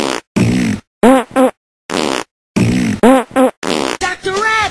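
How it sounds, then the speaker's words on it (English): Cartoonish fart sound effects in a comedic edited cartoon, a run of loud, bursty blasts separated by short silences, some with wobbling pitch, ending in a longer sputtering stretch. "You can fart to fly around."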